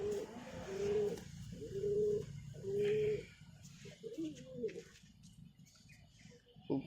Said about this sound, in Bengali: খুব অ্যাগ্রেসিভ পায়রা দেখুন